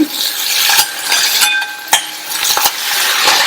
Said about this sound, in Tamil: தக்காளியை சேர்த்துட்டு அதையும் வதக்கிக்கலாம்